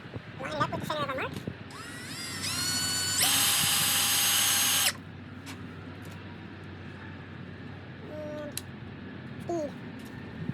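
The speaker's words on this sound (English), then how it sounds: "We got our drill. Let's cut some holes." Power drill with a Forstner bit bores a hole in a door: a whine spins up, then a loud steady grinding cut lasting a few seconds before stopping, with brief talk around it.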